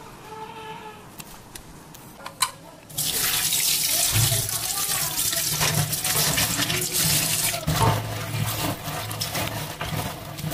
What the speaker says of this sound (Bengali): এই কাঁকড়া ঘিলু এগুলো সব এখন ধুয়ে নেই